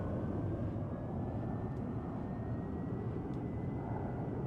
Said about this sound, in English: Jet engine up